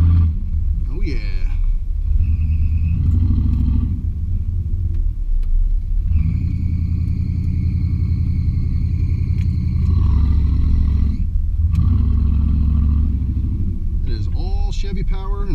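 A 1986 Chevy K20 pickup with a 350 engine swap, on fairly new Chinese tires, drives through snow in a blizzard, its steady low engine rumble continuing throughout.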